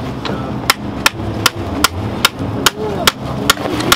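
A hammer strikes metal in a race pit stop while an alternator is being fitted, about nine sharp, evenly spaced blows roughly every 0.4 seconds, close and loud over low background noise.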